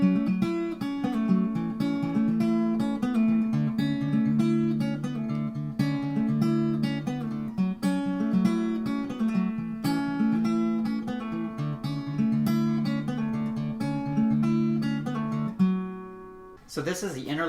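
Acoustic guitar playing the busy interlude of a song, a dense run of quick plucked notes and strums at steady volume, close and alone, ending with a brief bright strum.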